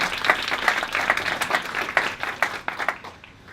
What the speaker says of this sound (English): Big round of applause for Sarah, ladies and gentlemen.